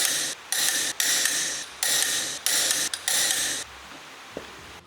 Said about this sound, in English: Again, tighten till the wrench clicks.